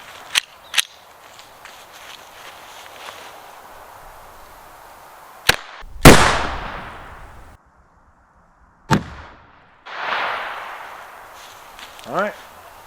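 A .22 rifle fires 36 grain high velocity bullets into homemade ballistic gel, giving several sharp, loud outdoor cracks spread out at irregular intervals, each trailing off into a short decay, with quiet ambience between shots.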